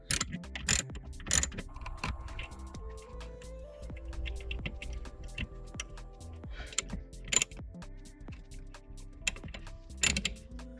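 A 10mm ground post bolt on a 2018 Dodge Charger 392 is loosened and tightened with a ratchet, giving close, repeated clicking pawl sounds and scattered metallic clanks at an even working pace.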